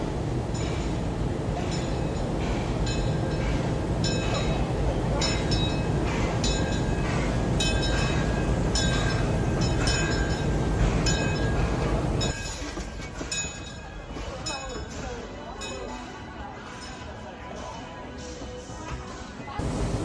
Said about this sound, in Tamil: ஸோ இதுதான் இந்த ட்ரெயின் வந்துகிட்டு இருக்குது.